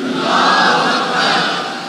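A large crowd at a Muharram majlis in a Pakistani shrine roars a sustained chanted response to the Takbeer slogan, loud and unbroken for about two seconds.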